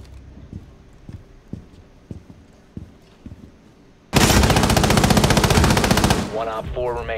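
Automatic rifle fire in Rainbow Six Siege on the Kafe map during a team deathmatch, a loud sustained burst of rapid shots after quieter footsteps and clicks, with voices talking at the end.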